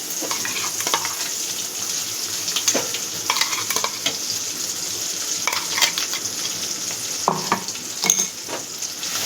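An onion-tomato paste sizzles steadily in hot oil in a kadai over medium heat while a spoon scrapes and stirs the pan now and then.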